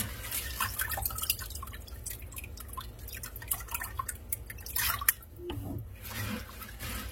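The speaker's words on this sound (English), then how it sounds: "Just run the water out of these beans." Rinse water from washed dried beans drips and trickles through a colander, a steady close patter of drops with a brief gurgling splash near the end.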